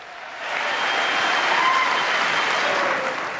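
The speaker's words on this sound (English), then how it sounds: "While Republicans in Congress applauded and praised Trump" Republican members of Congress applaud Trump during his address, a sustained wash of clapping from a large chamber audience that swells in after a brief quiet start and holds steady.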